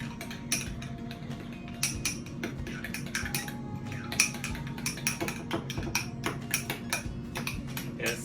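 Sauce ingredients with cayenne pepper are stirred in a bowl for fish tacos, a spoon clinking and scraping against the bowl in quick irregular taps over a low steady hum, close and fairly quiet.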